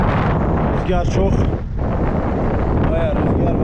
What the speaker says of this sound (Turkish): Bayağı rüzgar var.